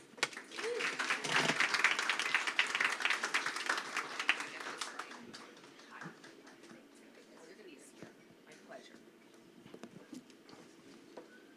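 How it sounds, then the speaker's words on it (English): An audience applauds, a dense burst of clapping that swells for several seconds and then tapers off as a voice begins speaking. "Please give a big round of applause"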